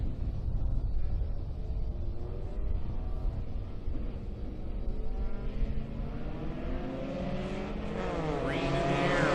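Ministock 4-cylinder race cars run a heat at Brighton Speedway, engines droning and revving steadily in a loud mixed roar, with rising whines as cars accelerate past near the end.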